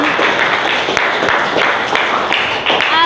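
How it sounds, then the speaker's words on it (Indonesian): Applause for Gaida and the presenting group during a classroom lesson in a teacher-training session: a dense, steady patter of many hands clapping close by, sustained for about three seconds with a slight swell near the end. "Kita beri tepuk tangan untuk Gaida dan kelompok yang presentasi."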